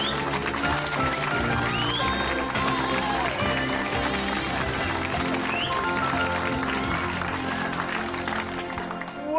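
A studio audience applauds a game-show host's entrance, steady clapping over bright music that fills the whole stretch at moderate level.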